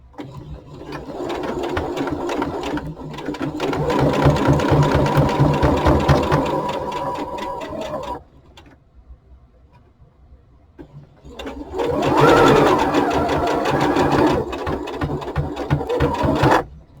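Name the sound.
sewing machine stitching hat fabric pieces together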